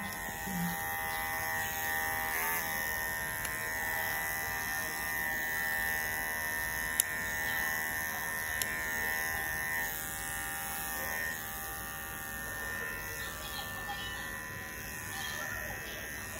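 Electric clippers buzz steadily and close up while shaving the fur of an English Angora rabbit, a continuous whine running through the whole stretch with faint clicks.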